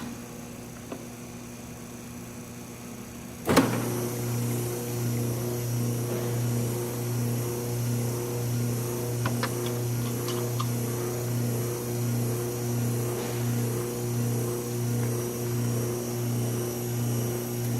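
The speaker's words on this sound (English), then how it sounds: "You heard the refrigeration compressor kick on." A Neslab ThermoFlex 1400 chiller's refrigeration compressor kicks on abruptly, its loud steady hum replacing a quieter idle, then drones evenly with a faint rhythmic pulsing; no one speaks.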